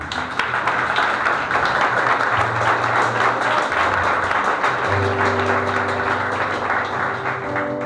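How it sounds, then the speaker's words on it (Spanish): Sustained applause from a church congregation during a sermon, steady and full throughout, with a low tonal hum of organ or keyboard underneath. "Dale un fuerte aplauso a Dios."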